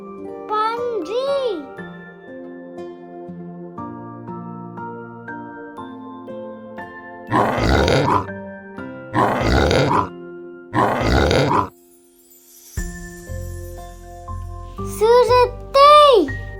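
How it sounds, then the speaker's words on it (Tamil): A pig grunts in three loud, rough bursts spaced a couple of seconds apart, close to the microphone, set between stretches of light background music and a chirpy tonal effect. "பன்றி"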